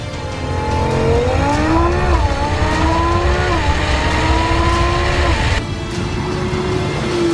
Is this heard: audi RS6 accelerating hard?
yes